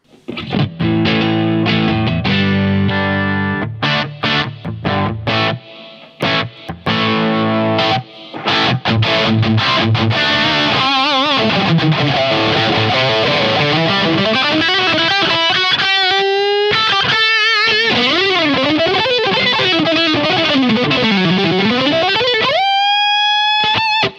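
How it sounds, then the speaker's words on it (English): Electric guitar played through a multi-effects pedal, first as chords with a room reverb and then as sliding, bending single notes drenched in spring reverb, loud and sustained with long washy tails. "here is just 2 different reverbs that I tried with this pedal. One is a room, I think, and the other was a spring"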